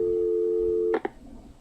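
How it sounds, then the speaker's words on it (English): Phone call in the Killer Frequency video game ending: a steady, loud line tone holds for about a second, then cuts off with two quick clicks. "it's time for me and Maxie to free up your phone lines"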